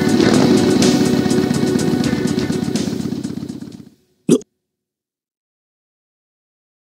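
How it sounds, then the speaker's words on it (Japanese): A motorcycle engine in an anime drones steadily for a few seconds, then cuts off, followed by a sharp click and silence. "バイクのエンジン音。"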